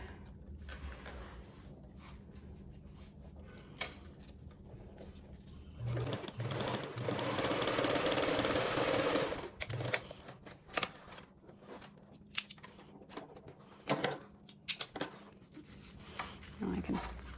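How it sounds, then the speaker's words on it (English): A sewing machine top stitches fabric layers with a 1/8 seam allowance in one sustained run of about three seconds, with a few short stitching bursts and light clicks and clinks of handling before and after. "you can go ahead and top stitch each of your layers with a 1/8 seam allowance"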